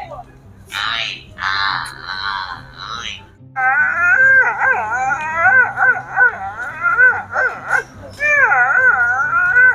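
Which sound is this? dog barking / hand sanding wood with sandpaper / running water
dog barking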